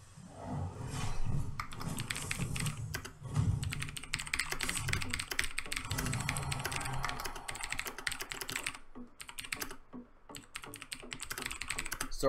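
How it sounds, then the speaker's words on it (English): Rapid typing on a computer keyboard during a game stream, dense clattering keystrokes close to the microphone, continuing for about twelve seconds with only brief pauses. "Sorry if that typing deafened anybody."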